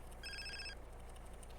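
A brief electronic phone ring in Grand Theft Auto: San Andreas chimes once, a clean tonal trill over a faint steady hum.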